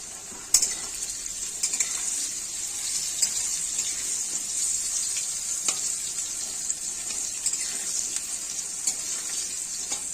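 Potatoes tossed with a little turmeric fry in a pan for a mustard-paste drumstick curry, giving a steady, loud, close sizzle broken by occasional clicks of stirring utensils, with no one talking.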